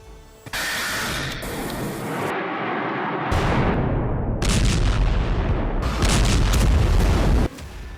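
Missile strike explosions on a military base: heavy, loud booms and a continuous rumbling roar that swell in waves, with sharp bursts layered over the low thunder and no speech.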